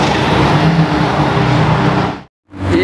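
A black Porsche 992 Turbo S driving past, a loud close engine roar that swells and holds before cutting out abruptly, then briefly returning.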